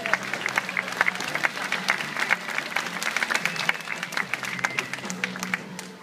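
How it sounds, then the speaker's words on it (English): Steady applause from an audience at a seal training show at Taronga Zoo, dense clapping sustained throughout with a faint crowd murmur underneath. "Give him a round of applause."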